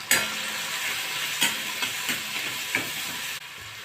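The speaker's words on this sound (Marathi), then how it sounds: "कांदा आणि टोमॅटो परतून झाले, तर त्याच्यामध्ये आता आपण थोडीशी हळद घालूया," Turmeric being stirred into sautéed onion and tomato in a pan for an Indian taro-stalk curry, with a steady frying sizzle and a few short scraping strokes of the spoon, close and fairly quiet.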